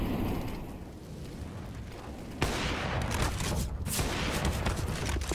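Rapid bursts of gunfire from a Counter-Strike match on the Vertigo map, a FURIA versus paiN grand final, erupting loudly after a quieter stretch of background noise and continuing as dense, overlapping shots.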